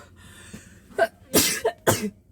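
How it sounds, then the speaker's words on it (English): Two quick, sharp sneezes in a row from dust, close and fairly loud, after a brief breathy intake and a short pause of quiet. "double sneeze."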